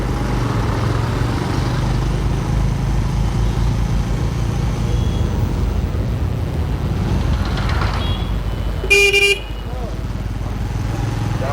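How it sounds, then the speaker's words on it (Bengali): A busy market road carries motorcycles and cars, their engines giving a steady near rumble, with a short sharp horn toot standing out near the end; faint voices are under the traffic. "বাজার এরিয়া, ট্রাফিক অনেক।"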